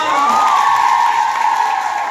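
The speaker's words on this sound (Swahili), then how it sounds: "Makofi ya walimu tena." A crowd at St. Bakhita Chuka Girls school applauds its teachers: steady, dense clapping mixed with cheering that holds loud throughout, with a sustained whistle-like tone running over it.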